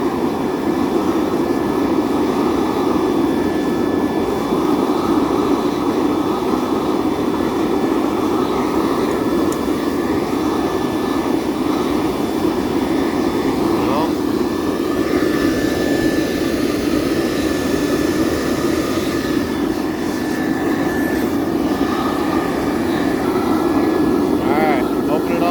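A waste oil burner runs with a loud, steady, broadband roar that holds even and unbroken throughout, close by and filling the whole stretch.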